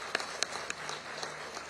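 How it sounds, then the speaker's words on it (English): A few scattered, faint hand claps ring out at the ACME 2023 international machine tool fair, sparse and uneven over a quiet, hollow hall ambience. "Big round of applause for ACME 2023"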